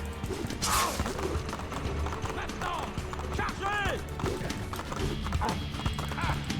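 Horse hooves clip-clop steadily in a video game, with thuds, creaks and mechanical sounds around them and brief game voices mixed in.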